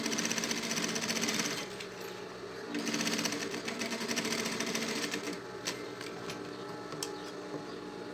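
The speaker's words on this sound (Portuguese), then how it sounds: "E aqui eu já vou passar a costura diminuindo aqui o meu 1 centímetro." A sewing machine stitches a seam through synthetic leather for a school pencil case, running in a fast steady whir with a brief pause, then resuming with light clicks.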